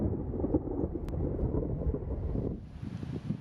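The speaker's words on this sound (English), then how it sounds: "Oh, big lightning strike." Deep, rolling thunder rumbles continuously after a big lightning strike in a western tornado-warned storm, loud and close at first, then easing into a lower, more distant roar with wind and rain noise.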